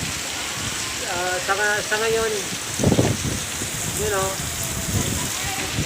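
Steady rain patters and hisses on surfaces throughout, while someone speaks briefly over it.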